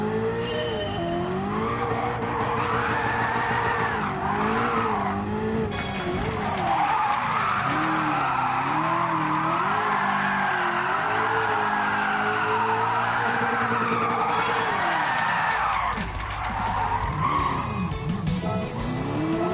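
Tires skid and squeal steadily under a revving race car engine in Gran Turismo 7, a long, loud, sustained slide with wavering pitch that eases briefly near the end.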